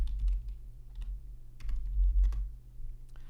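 Quick, light keystrokes tap out a short search on a computer keyboard, with irregular close clicks over a low steady hum.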